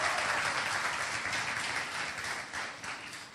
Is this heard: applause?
yes